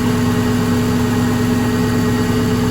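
A Subaru Legacy Outback engine runs steadily at idle, close and loud, with a constant low hum and an even mechanical drone and no other sounds.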